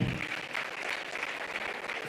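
Applause from a conference audience at a foundation summit in Tanzania, a steady, somewhat distant patter of many hands heard briefly and without a break.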